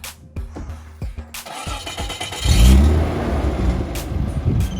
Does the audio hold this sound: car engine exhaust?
yes